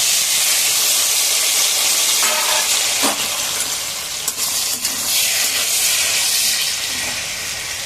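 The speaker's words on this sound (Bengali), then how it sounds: "এবারে আলুগুলোকে ভেজে নেব" Potatoes fry in hot oil in a pan, a loud, steady sizzling hiss that carries on throughout with faint stirring scrapes and small pops, and no voices.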